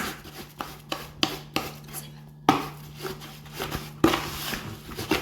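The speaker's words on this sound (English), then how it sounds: "You mix it well until it's like a paste." Mandazi dough ingredients being mixed into a paste in a bowl, heard as a series of irregular, close knocks and scrapes of a utensil against the bowl, fairly faint, with no talking.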